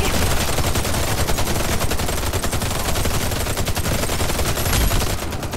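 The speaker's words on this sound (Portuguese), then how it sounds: "Eita, tiroteio" Sustained, dense gunfire from the Warface video game's zombie mode, with rapid automatic bursts that continue loudly and almost without pause throughout, then ease off slightly at the very end.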